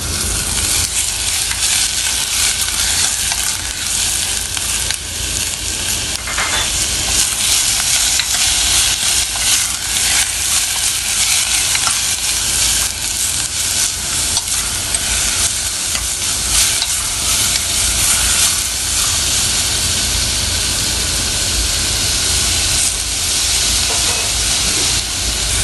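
Beef frying in a pan for Korean kimchi stew (kimchi jjigae), a loud, steady sizzle and hiss with occasional stirring scrapes running continuously without pauses.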